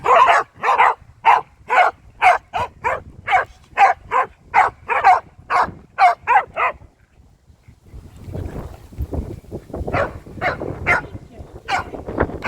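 Corgi puppies bark loudly and close up in a rapid, steady run of barks during a forest walk, then fall quiet before more scattered barking returns among rustling.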